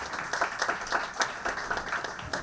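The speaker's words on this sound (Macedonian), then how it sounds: "Еден аплауз ве молам за Подравка" Applause from a food industry panel audience rolls steadily, a room full of moderate hand claps at a medium distance with no voices over it.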